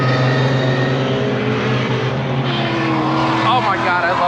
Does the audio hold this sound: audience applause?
no